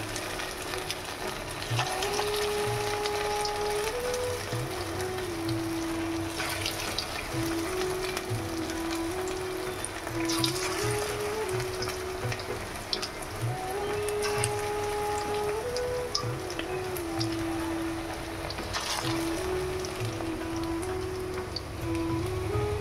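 Small pieces of chicken tikiya frying in hot oil give a steady, close bubbling hiss that carries unbroken throughout, with a faint tonal hum underneath.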